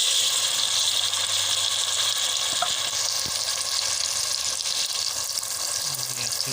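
Chopped tomatoes frying in a pan with browned onions, a steady close sizzle and crackle that continues evenly throughout with faint stirring, no voices.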